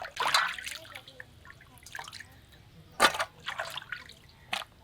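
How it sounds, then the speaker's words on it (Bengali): Katla fish is washed with water at an outdoor tap, giving irregular splashes and drips in a few bursts with quieter trickling between them. No one speaks. "এখানেই মাছটা ধুয়ে নেবো"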